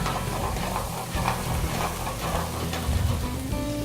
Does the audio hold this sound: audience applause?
no